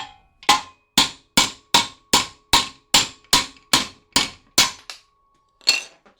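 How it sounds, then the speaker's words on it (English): A sealed 75-lb compressor unit, set on an edge and struck repeatedly with a hammer for scrap: about eleven sharp, loud metallic bangs in a steady rhythm, each ringing briefly before the next blow. "let's put this right up here on the edge and hit it a few times"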